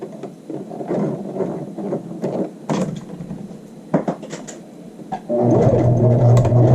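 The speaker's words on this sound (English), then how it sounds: "We're sewing that facing edge down with a 1/2 inch seam allowance." A home sewing machine stitches a child's shirt facing edge down at a half-inch seam, with short runs, pauses and fabric handling, then a loud continuous whirring stretch at the end, close up.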